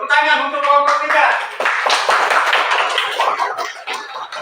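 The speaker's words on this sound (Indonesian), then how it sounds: "tepuk tangan untuk kelompok 3" A class gives applause for a student group in a classroom, close, dense clapping that follows a brief spoken voice and carries on with people talking.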